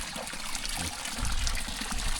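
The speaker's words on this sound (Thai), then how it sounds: "น้ำไหล" A small mountain stream beside a tiny remote hillside village flows continuously, a close, steady rushing trickle with gurgling swells and no one talking.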